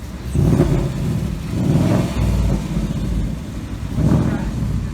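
A 2019 Ford Mustang Bullitt revs with its exhaust in sport mode, in steady surges, its deep rumble rising and falling close by, with a voice talking over it.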